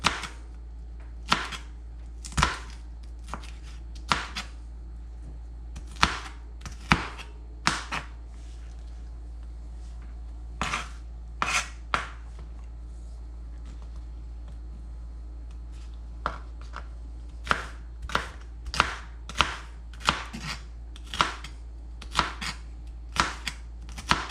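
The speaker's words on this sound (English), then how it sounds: "Just gonna give them a nice little chop." Knife chopping food on a cutting board during meatloaf prep for a Vision Classic B Kamado smoker, a run of sharp, distinct chops in irregular bursts with short pauses, close and clear over a low steady hum.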